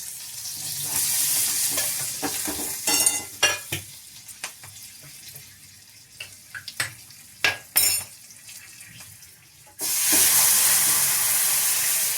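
Ingredients for a tamarind yam masiyal are sautéed in a pan: a low frying hiss carries irregular sharp clinks and scrapes of a ladle stirring, then a loud burst of steamy sizzle rises near the end.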